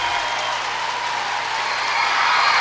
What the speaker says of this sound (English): The crowd's certainly letting him know that he's still number 1 in their minds.